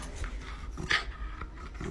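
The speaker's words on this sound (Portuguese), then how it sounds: "Então, eles se gravaram brincando com Jack Russell," A Jack Russell terrier playing with a toy makes steady low snuffling grunts and huffs, close and continuous, with one brief sharper snort partway through.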